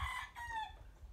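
A black McGray gamecock rooster gives a short, close crow lasting about a second, its call rising and then falling off.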